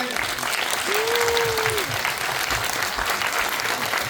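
A fan-club audience at a private screening and sharing session applauds warmly, a sustained, dense clapping that carries on under a speaking voice, with a brief whistle-like tone in the middle.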